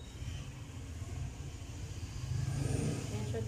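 Motorized tricycles pass along a street below a balcony, heard as a low, rumbling engine drone that swells slightly as one vehicle comes nearer.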